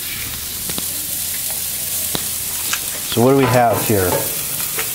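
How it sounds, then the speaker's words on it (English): Food sizzling on a barbecue grill in Hawaii, with sausage, steak and shrimp mentioned, a soft steady hiss and crackle under a short spoken question and a few sharp clicks. "So that's the barbecue in Hawaii."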